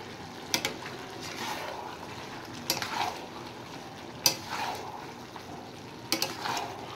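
Mutton stir-fried with garlic paste in a pan, with a low fry hiss under periodic sharp metallic scrapes and clinks of the spatula against the pan, close and fairly quiet.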